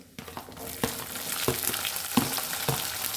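Chopped onions fry in a pan with a continuous sizzle that swells after a quiet start, and regular scraping strokes from a spatula cut through it.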